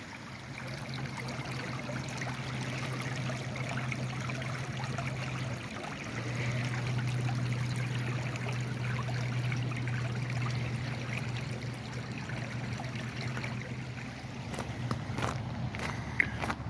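A stream trickles beside a nature trail at Thomas Lake in Washington State, a steady soft burble of water that holds throughout, with faint footsteps crunching toward the end.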